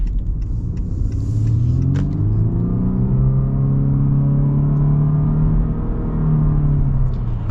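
A 2021 Honda Insight Touring hybrid accelerates in automatic mode, heard from inside as a smooth engine drone rising steadily in pitch for several seconds over road rumble, with no talking.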